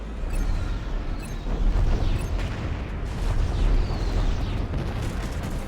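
Fireworks set off outside a house, heard as a dense, continuous rumble of booms and crackling bursts. The barrage stays loud and sustained with no pauses and no talking.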